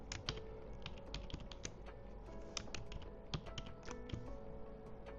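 Fast, uneven clicking of keys on a computer keyboard, close and fairly quiet, with a steady low hum underneath and no talking.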